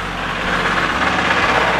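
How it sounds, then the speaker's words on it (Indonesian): A passing motor vehicle's engine rumbles low and steady for a brief moment at close range, without any talk over it. "ada mesin lewat nih"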